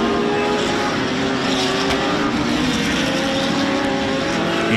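A loud, dense roar of several GT race cars revving together at a race start at Road Atlanta, sustained and growling, with higher whines rising as the cars pull away.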